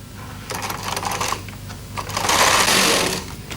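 A Bond Incredible Sweater Machine carriage is pushed across the needle bed to knit one row, giving quick clattering clicks followed by a longer rattling sweep, close and moderately loud with no voices.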